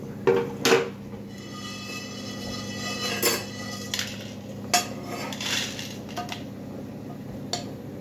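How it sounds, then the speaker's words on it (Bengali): Roasted spices are tipped out of a pan into a container. Several metallic clinks and knocks stand out over a low steady hum, with scattered lighter taps, close and moderately loud. "এখন ওটা আমি পাত্রে ঢেলে নেব"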